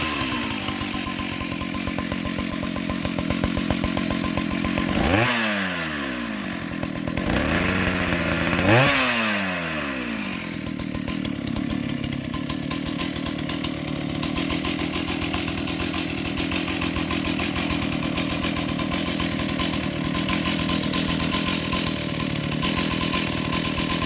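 Vintage restored Jonsereds 751 75cc chainsaw, fitted with a bigger spike from a Jonsereds 52, is pulled over twice and then runs at a steady, loud, close idle with a rough, buzzing two-stroke drone and no talking.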